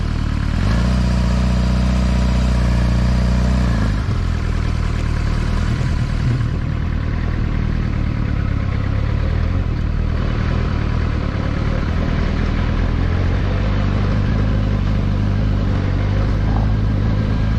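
A Suzuki GSXR 600 K7 sports motorcycle is ridden close-up, its engine droning loudly and continuously with shifting pitch as it revs, changes gear and pulls away.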